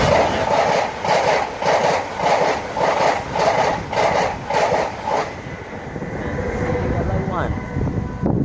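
A British Rail Class 332 Heathrow Express train passes at Southall on the Great Western Main Line. Loud, close rhythmic clatter of wheels beats over the joints for about five seconds, then fades into a steady rumble with a rising whine.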